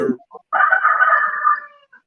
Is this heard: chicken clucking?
yes